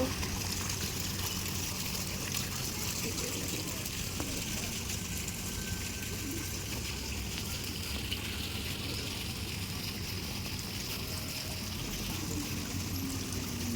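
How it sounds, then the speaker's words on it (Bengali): Water falling in a flower-filled restaurant garden in Krishnanagar, a steady, continuous splashing rush with faint background voices underneath. "জল পড়ছে"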